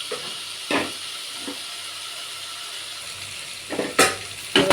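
Steady frying hiss from a pan while an ingredient is roasted for field bean upma, with a few scraping stirs near the start and louder spatula clatter toward the end.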